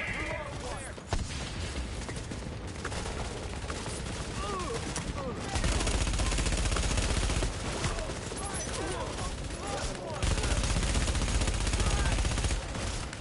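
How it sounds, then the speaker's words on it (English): Heavy video game gunfire crackles in dense bursts and volleys throughout, with louder stretches mid-way and near the end, while players talk over the shooting. "That's a lot of gunfire."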